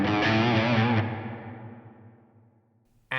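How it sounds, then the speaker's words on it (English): An electric guitar chord rings through the Fractal FM3 London Plate reverb at a 40% mix, with a bright, dense tail that decays smoothly over about two seconds before another note cuts in at the end. "So that's the London Plate reverb."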